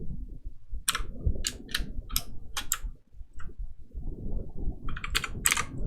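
A semi-new computer keyboard clicks as keys are struck in short, irregular bursts of sharp taps close by over a low rumbling background.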